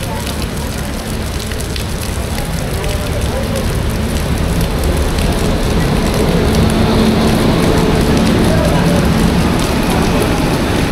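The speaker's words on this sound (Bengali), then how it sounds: "প্রচুর বৃষ্টি পড়ছে, বৃষ্টির প্রকোপ প্রচুর পরিমাণে বেশি।" Heavy rain heard from inside a moving train on the Sealdah to NJP Darjeeling Mail at night, a loud, continuous dense roar of rain and rushing noise that holds steady throughout with no clear breaks.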